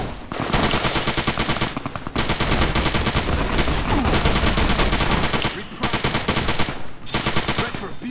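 Sustained automatic gunfire in Fallout New Vegas as Legion forces open fire, loud rapid bursts running nearly continuously with a few brief pauses.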